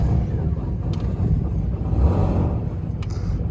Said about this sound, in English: Let's give it some revs here, see what happens.